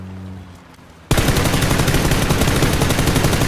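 Loud sustained automatic gunfire from PUBG kicks in abruptly after a quiet second, a rapid steady stream of close shots that carries on to the end.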